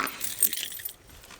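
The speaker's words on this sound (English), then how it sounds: "I need the keys to the car" Car keys jangle briefly and close by, a light metallic rattle in a short burst that fades out within about a second, with no talk.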